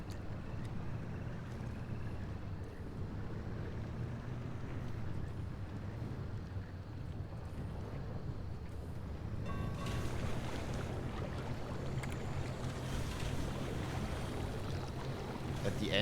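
A struggling car engine in the video game Pacific Drive, a steady rough rumble with broad noisy wash that grows brighter and harsher partway through, running continuously without talk.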